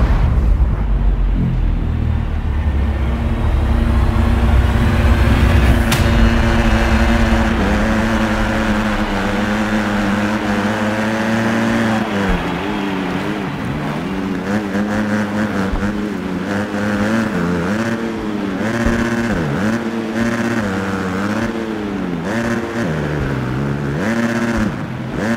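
Supercross motorcycles race a muddy track in the video game Monster Energy Supercross 3, several engines buzzing and revving loudly together, pitch rising and falling through gear changes and throttle blips, with a sharp burst near the start.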